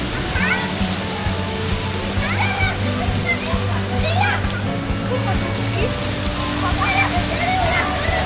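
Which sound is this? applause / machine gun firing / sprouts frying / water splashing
water splashing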